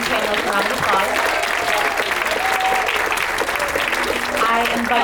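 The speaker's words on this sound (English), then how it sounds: "So please give our amazing panelists a round of applause." Audience applauding panelists at a women's health event, a steady dense roar of clapping from a large crowd that holds loud and even throughout.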